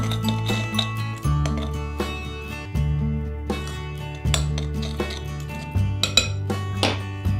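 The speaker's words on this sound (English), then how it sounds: "And then we've got a lovely little tot of amaretti liqueur. We're going to mix that together." A spoon clinks and taps against a bowl in irregular bursts while amaretti liqueur is mixed into crushed biscuits and a pinch of salt, with steady background music underneath.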